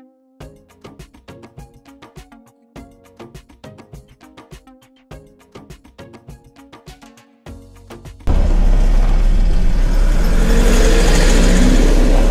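Rhythmic tonal pulses give way abruptly to a loud, steady roar as a car pulls away on the Khardung La mountain road, the engine and rushing noise holding close and constant.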